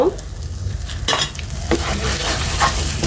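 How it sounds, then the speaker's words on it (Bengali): Ghee being stirred into a bread and carrot rasmalai mixture in a pan, with brisk scraping spoon strokes over a gentle sizzle, close and continuous, no speech. "1/2 চা চামচ ঘি দিয়ে আমি"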